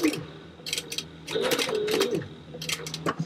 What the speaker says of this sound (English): And I'm going to start sewing, hanging on to your threads.